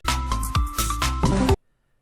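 A short burst of bright electronic Tetris line-clear tones with rapid blips and a buzzy low thump, ending abruptly into silence.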